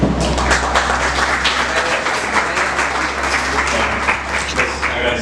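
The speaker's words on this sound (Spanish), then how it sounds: "Les pido un fuerte aplauso para él." A seated conference audience at a pediatric intensive-care lecture gives an introduced doctor a strong round of applause, loud and continuous dense clapping from many hands that fills the whole stretch.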